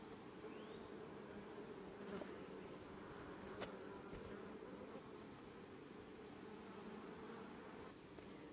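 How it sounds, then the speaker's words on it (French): Honeybees buzz faintly but continuously in an outdoor beekeeping setting, a steady insect drone with occasional brief louder passes, and no talking. "donc j'ai attrapé quelques abeilles, je vais me piquer"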